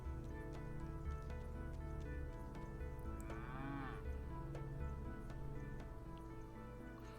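A single cow moos clearly over a steady low farm hum, with scattered drips and faint clatter around it.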